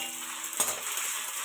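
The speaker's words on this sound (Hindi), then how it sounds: "हम इसमें डालेंगे आलू फ्राई करने के लिए" Potatoes frying in oil in a hot kadhai, a steady faint sizzle with a brief clatter partway through, no voices.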